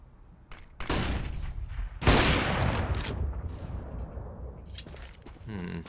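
Gunfire in a Counter-Strike match at the ROG Masters 2021 Australia tournament: dense bursts of rapid shots and blasts, loud and sustained across most of the clip, with caster commentary talking over the action.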